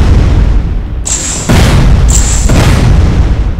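Missile blasts in the space sandbox game Space Engineers, two loud booming bursts about a second apart, each opening with a sharp high crack and followed by a rumbling tail over a steady low background.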